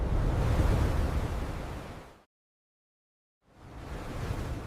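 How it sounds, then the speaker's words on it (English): Ocean waves at night wash in a steady broadband rush, loud and close, then cut to full silence for about a second before the surf noise resumes. "The ocean comes alive at night."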